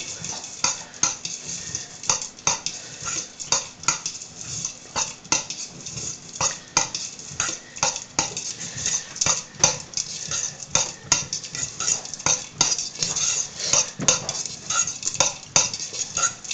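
A spoon stirs a mixture in a bowl while making a recipe, giving quick rhythmic clinks and scrapes against the bowl that repeat steadily and close up, with no voices.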